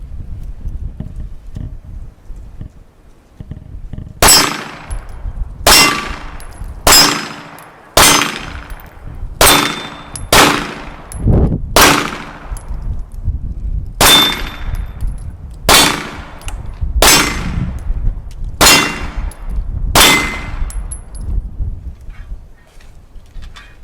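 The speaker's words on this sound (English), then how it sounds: "First shots with the Inglis GP35 or P-35." Shots from an Inglis P-35 pistol ring out in a steady string of about fourteen sharp, loud reports, each with a ringing tail, spaced roughly a second apart across the clip.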